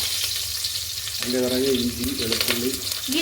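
Curry leaves hit hot oil and crackle with a sharp, bright sizzle that swells suddenly partway through, then keeps spitting and popping close up, with some stirring noise.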